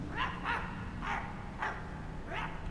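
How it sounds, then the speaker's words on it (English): A dog barks in the horror video game My Friendly Neighborhood, giving about five sharp, evenly spaced barks over a steady low background hum. "That is a dog."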